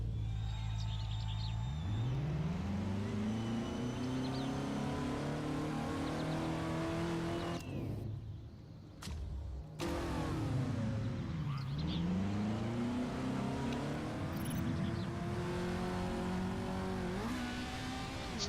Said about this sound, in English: Let's start the engines